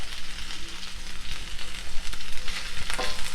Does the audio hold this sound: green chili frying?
yes